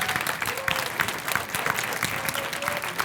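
An audience at an improv match at the Bol d'Or festival applauds warmly, a dense, steady clapping that runs throughout the few seconds without pause.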